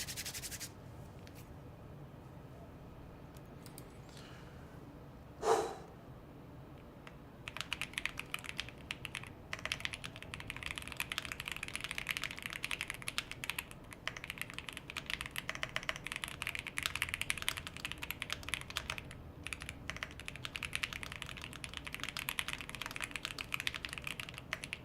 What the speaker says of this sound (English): I'm not typing good today.